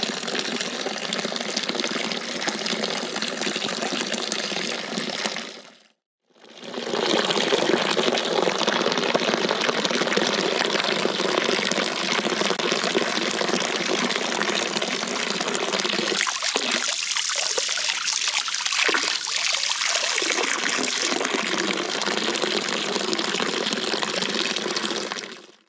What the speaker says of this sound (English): You can hear the sound of flowing water.